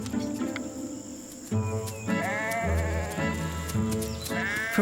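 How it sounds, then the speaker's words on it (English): Grazing sheep bleat near the trees in an apple orchard field, several wavering cries overlapping over a steady chirr of insects, fairly close and clear with no talk. "From time to time, grazing sheep wander into the field around the trees."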